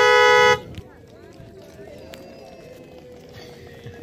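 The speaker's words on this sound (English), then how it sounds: "I just had a car alarm here going off" A car alarm blares a loud, harmonic electronic horn for about half a second, then cuts off, leaving outdoor crowd noise and scattered voices.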